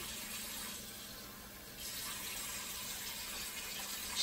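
Water is poured into quinoa cooking with turmeric, a steady close hiss of flowing liquid that runs throughout, with no talking.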